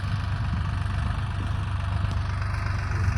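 A tractor engine idles steadily on a farm during pearl millet sowing, giving a continuous close, low diesel rumble with a faint knocking pulse and no voices.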